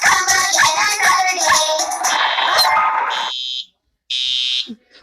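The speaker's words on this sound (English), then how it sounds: "That looks like fire alarm." A cartoon fire alarm in Bubble Guppies rings loudly in shrill, pulsing bursts over lively music, then cuts out briefly before one more harsh blast.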